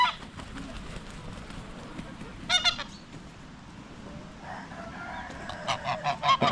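Geese on a poultry farm honk in loud bursts and flap their wings over a rustling, busy background, with calls clustering near the start and growing more frequent toward the end.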